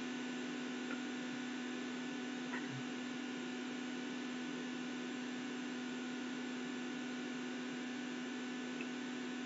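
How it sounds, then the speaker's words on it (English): A hot air rework station blows steadily while it cools down, a constant, fairly quiet rushing hiss with a low tonal hum beneath it that continues unchanged throughout. "Just waiting for my hot air to cool down so I can switch the nozzle to the 6mm."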